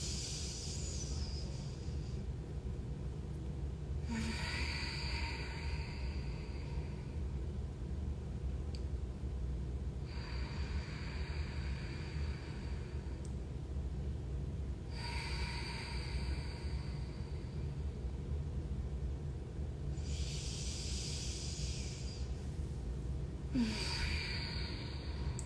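Slow, calm breathing through both nostrils during a guided awareness exercise, several long soft breath cycles of airy hiss spaced a few seconds apart, close and quiet over a steady low background, with no talking.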